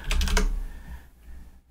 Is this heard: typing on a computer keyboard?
yes